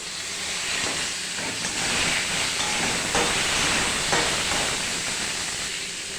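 Vegetables for a pumpkin and prawn curry hit hot oil tempered with dried chilli, cumin, nigella, radhuni and bay leaf, producing a loud, steady hissing sizzle that holds evenly for several seconds.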